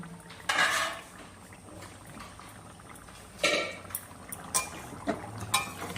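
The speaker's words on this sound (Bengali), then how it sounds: "পাঁচ মিনিট পরে ঢাকনাটা খুলে নিলাম" A metal lid comes off a pot of fish curry with potatoes, giving a close clatter, then several lighter clinks and taps of pot and utensils against a low simmering background.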